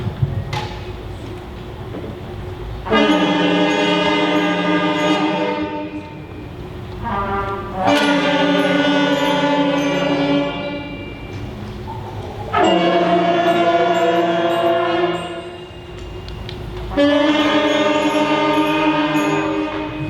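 A middle school concert band plays sustained wind chords in four separate held phrases, each several seconds long, separated by short pauses, sounding full and close within a school concert setting.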